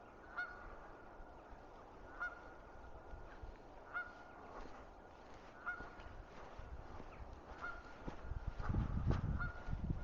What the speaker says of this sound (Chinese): 这边很漂亮的野鸟，在发出应该是求偶的声音吧